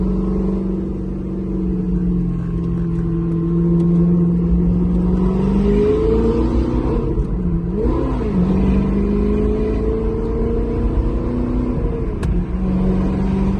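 An Audi R8 with a Capristo aftermarket exhaust, valves closed, idles and revs gently, a low, steady rumble with a couple of brief throttle blips, fairly subdued and close by.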